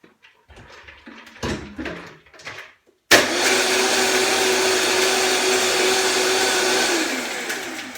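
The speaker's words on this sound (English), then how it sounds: "I'm just going to blend that and then I'm going to come back." A kitchen blender whirs as it blends coffee with salted caramel flavouring and sweetener, starting abruptly after some quiet handling noises and running loud and steady for several seconds before starting to wind down.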